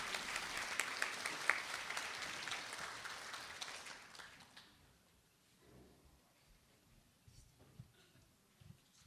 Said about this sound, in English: Give a round of applause for Delma.